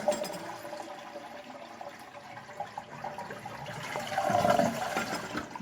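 A household toilet with a running, noisy fault flushes close by after the incoming water supply is shut off, beginning as a trickle and building to a louder rushing swirl of draining water.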